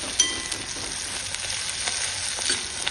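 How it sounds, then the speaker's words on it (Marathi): Thin-sliced onion sautéing in hot oil in a pan, a steady close sizzle with occasional light stirring taps and no voices. "तर आता उभा कांदा केलेला होता बारीक तो घातला. चांगलं परतून द्यायचा"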